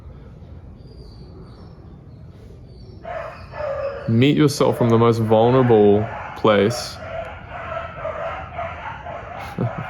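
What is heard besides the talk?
dogs barking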